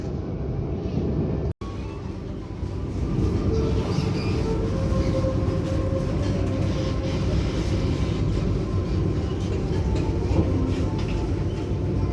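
KA Kaligung economy-class train arriving at Pekalongan station, Central Java: a steady, loud rolling rumble of the carriage from inside, with faint wheel and track noise and a brief dropout early on.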